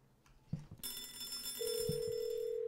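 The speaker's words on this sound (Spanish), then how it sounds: "estoy llamando con este teléfono y está sonando el mío" In the video game Hello Neighbor, a couple of soft knocks, then a steady electronic telephone ring tone begins and sustains, with a bright higher tone layered in, fairly quiet overall.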